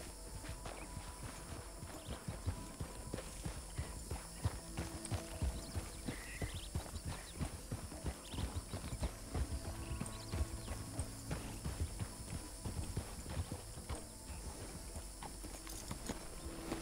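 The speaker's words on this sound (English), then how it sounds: "We'll go put Pavis's horse back" Horse hooves clip-clop in a steady walking rhythm in the RedM (Red Dead) roleplay video game, a continuous series of close, faint hoof strikes over a quiet background.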